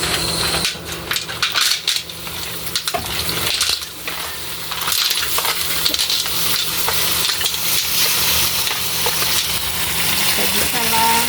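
Seafood and shells fry in a hot pan, a loud steady sizzle broken by clattering shell clicks and stirring scrapes throughout.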